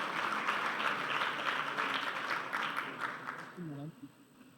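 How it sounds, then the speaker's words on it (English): An audience at a youth meet gives a round of applause, a dense wash of clapping that lasts a few seconds and blends with a voice briefly audible near the end. "Let's give them also a big round of applause."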